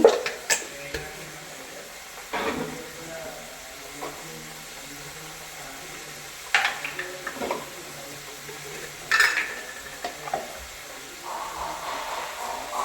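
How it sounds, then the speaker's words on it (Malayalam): Spoon stirring chili, turmeric and coriander powder into sausage curry in a pan, a low steady sizzle broken by several sharp scraping clinks against the pan, with no talking. "മല്ലിപ്പൊടി, ഇത്ര ഇട്ടിട്ട് നമുക്ക് ഇളക്കി എടുക്കാം കേട്ടോ."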